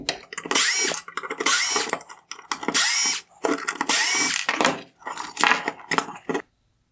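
A power driver backs T20 screws out of a 2015-2018 Porsche Macan bi-xenon headlight, holding the projector lens to the bowl: repeated close, loud whirring bursts of about a second each, with short pauses between, and no talk.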